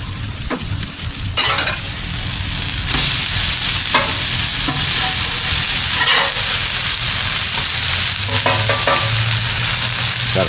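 Cod fillets fry on an outdoor griddle alongside Brussels sprouts and zucchini, a steady loud sizzle running throughout with occasional scrapes and clinks of a spatula on the metal surface.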